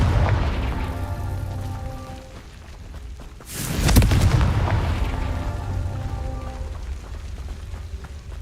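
A Confringo fire spell blasts in the Hogwarts Legacy video game: a loud, sudden explosive boom with a bright crackling burst, rising out of low rumbling game ambience and fading into a lingering roar.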